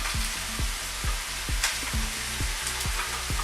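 Curry powder is stirred into coconut milk in a pan, with a spoon scraping in a regular rhythm of sharp knocks and scrapes over a steady close sizzle.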